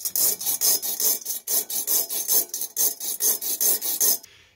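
A brass oil lamp's metal rim is smoothed by pulling a chain back and forth through its hole: about a dozen quick, close rasping strokes in a steady rhythm, then a brief quiet tail.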